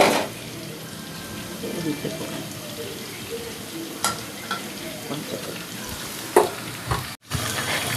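Mustard seeds sizzle in hot oil for a tempering for khichra daleem, made with moong lentils, rice and barley porridge; a steady frying hiss runs throughout with faint stirring clinks and a brief tap-water sound near the end.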